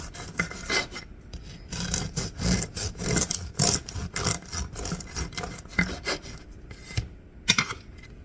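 A knife saws back and forth through a baked sourdough loaf. The raspy strokes are close and rhythmic, each one a scratchy rub, with brief pauses between cuts and no speech.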